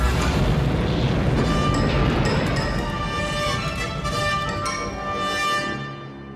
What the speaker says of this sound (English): Sensors report energy weapons fired Captain Solo's location, General, followed by an explosion.